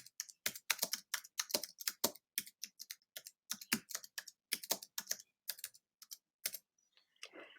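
Light, quick keystrokes on a computer keyboard type out a short note, an irregular run of crisp clicks with brief pauses, close and fairly quiet with no talking.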